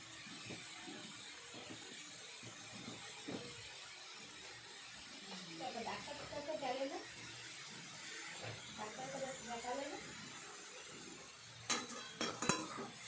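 Turnips coated with turmeric powder are stirred in a pan for a Bengali turnip ghonto, giving a faint, soft scraping and gentle sizzle with a few sharper utensil knocks near the end.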